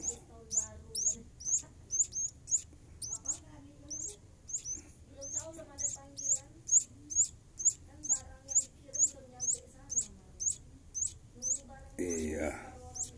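Baby kadasi sunbird chirping while being fed, a rapid regular series of high, thin chirps repeating for a long stretch, close up, with a person talking softly underneath and a brief rustle near the end.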